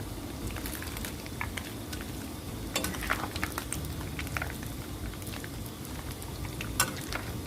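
Dried mackerel fries in oil over a low flame, giving a soft, continuous sizzle with scattered crackles and pops, fairly faint and without talking.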